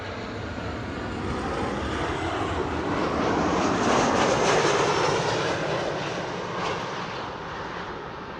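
Airplane landing at Amsterdam Schiphol Airport, a broad engine roar that swells gradually to a peak mid-clip and then eases slightly, heard steadily at a moderate distance with no talk over it.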